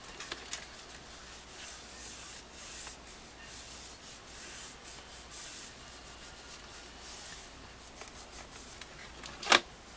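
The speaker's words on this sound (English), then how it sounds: "Burnish this down real good." Paper being burnished down on a card craft project, a faint, continuous soft rubbing and scraping with slight fluctuations, close but quiet, ending in one brief sharper tap.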